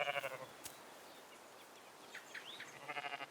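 Sheep bleating in short wavering calls, a burst at the start and another near the end, with a few fainter cries between, heard over a quiet outdoor background.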